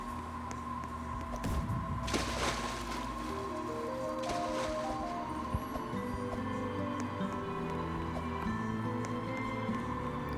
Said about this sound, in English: That's just my fan, if you're wondering what that noise is.